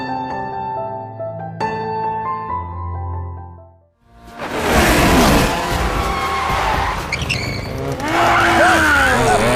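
Go-kart racing at a circuit: after a brief musical intro, loud tire squeals and skids from the karts fill the rest, with engine noise and repeated screeching bursts close by.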